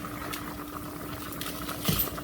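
Water at a rolling boil in a cooking pot, ready for yellow rice with corn, gives a steady close bubbling hiss with a brief surge near the end and no talk.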